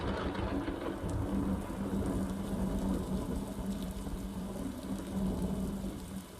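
Steady, continuous downpour in the video game Road to Nowhere, a dense wash of rain with faint low rumbles of thunder, unbroken and without any talk.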